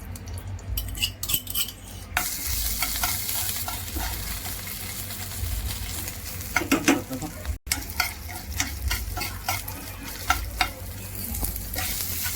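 Thecha, a crushed chili relish, sizzles loudly in hot ghee while a spoon stirs and scrapes the pan steadily, with crackling spits rising and falling throughout.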